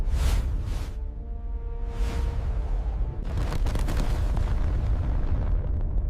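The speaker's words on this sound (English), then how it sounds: "The impact releases the energy of 1 billion bombs." A cataclysmic asteroid impact that wiped out the dinosaurs rumbles as deep, sustained booming blasts, several swelling roars layered over a continuous heavy low-end rumble, loud and unbroken throughout.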